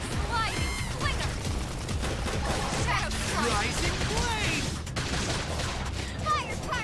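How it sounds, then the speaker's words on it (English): Explosion and gunfire in the sci-fi video game Xenoblade Chronicles X: a loud, dense barrage of rapid shots and crashing blasts mixed with game music and voices throughout. "Sudden explosion!"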